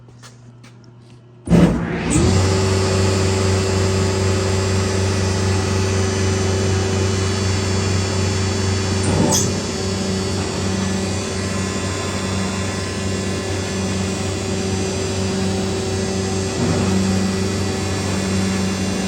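A Woodmizer MP360 molder powered through a phase converter starts abruptly, its large blower spinning up into a loud, steady mechanical drone that holds with a brief surge partway through; no one speaks.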